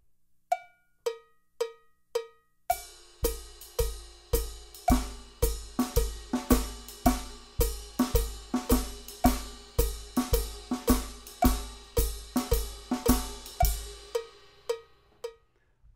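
A looped swing drum pattern of quarter notes and triplets, opening with a few sparse bell-like hits, then a steady, bright, clicking rhythm repeating for several bars before it stops.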